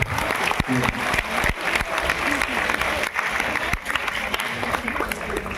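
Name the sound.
applause at a school function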